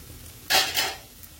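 Onion-garlic masala hits a hot pan for baingan masala, a sudden bright sizzle flaring up and fading within a second over quiet background.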